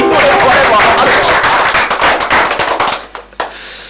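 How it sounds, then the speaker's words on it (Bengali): Loud applause from a crowd at a home quiz game, a dense burst of clapping that fades out after about three seconds. "জোরে হাততালি।"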